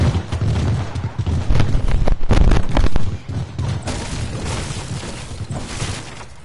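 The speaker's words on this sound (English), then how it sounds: "those fireworks are annoying." Video game fireworks go off loud and close, in a dense, continuous barrage of crackling bursts and deep booms that shifts slightly in intensity.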